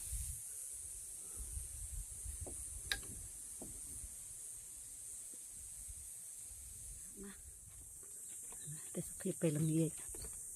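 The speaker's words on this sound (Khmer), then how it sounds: "សត្វរៃយំខ្លាំងជាងគេបំផុត" Cicadas in the evening around St George, Utah keep up a steady, high-pitched drone through the whole stretch while a person talks intermittently nearby and a few faint clicks and rustles pass.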